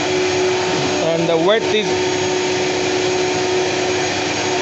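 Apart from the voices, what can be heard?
CNC machines running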